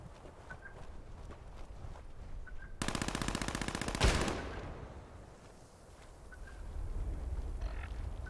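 Enemy gunfire in Fallout 76: a rapid burst of automatic fire lasting about a second and a half, fairly close, ending in a sharp louder shot, set against quiet game ambience with faint footsteps.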